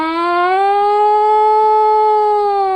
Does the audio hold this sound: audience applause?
no